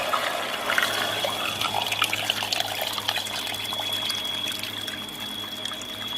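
Water pours steadily into a cooking pot of chicken kabsa, a continuous splashing trickle like a running tap, moderately close with no talk over it.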